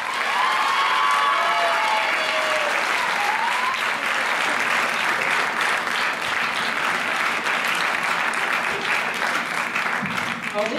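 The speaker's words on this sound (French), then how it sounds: "On l'applaudit très fort, Vanessa." An audience at a Miss Ronde Poitou-Charentes beauty pageant applauds steadily and loudly throughout, with scattered cheers and whistles rising over the dense clapping.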